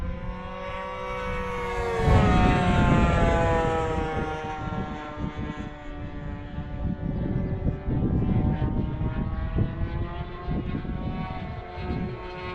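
A small high-pitched OS FX60 model airplane engine screams steadily at full throttle, its tone wavering and slightly stuttering, loud and close with no talking.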